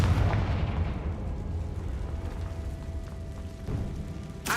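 A Confringo blasting spell in Hogwarts Legacy bursts with a deep booming explosion that rumbles and fades over several seconds, ending with a sharp crackle.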